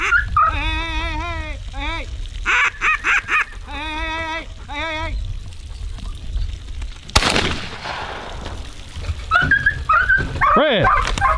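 A Labrador retriever whines and yips in repeated tonal bursts during live pigeon training, close and loud, broken by a sharp crack midway and a few more high yelps near the end.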